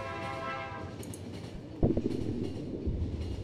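Train running in The Final Station video game, a steady rumbling rail ride with a sharp clunk partway through and continuing rolling noise, heard alone.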